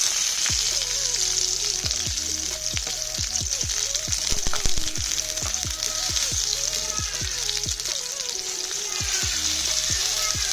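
Tomatoes sizzling steadily in a pan while cooking for a variety dosa, a continuous dense frying hiss with frequent small pops and crackles, loud and close throughout.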